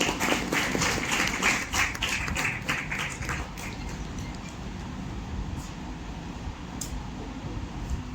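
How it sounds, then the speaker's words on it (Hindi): An audience applauds to welcome a speaker at a World Environment Day event at a science centre, with dense sustained clapping that gradually thins and softens toward the end. "चाहूंगी जोरदार तालियों से सर का स्वागत करें।"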